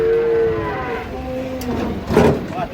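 A giant cow gives a long, loud moo close by while being unloaded from a truck at a crowded Eid cattle arrival, a second bellow rising at the end over background bustle.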